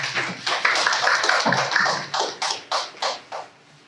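An audience at an Incheon future-education conference applauds; the dense clapping thins into a few separate, sharp claps that fade out.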